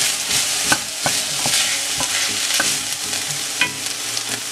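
Steady sizzle of bell pepper frying in a pan, with intermittent scraping and clacks of a utensil stirring throughout; close and fairly loud, no voices.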